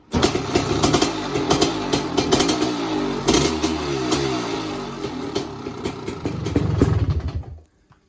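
A 1987 Kawasaki KX500 motorcycle engine runs loud and close on its choke, with a rough, uneven exhaust note that rises and falls through repeated revs before cutting off abruptly at the end.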